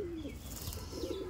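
A Kamgar pigeon cooing nearby, soft low warbling coos at the start and again toward the end over faint background noise.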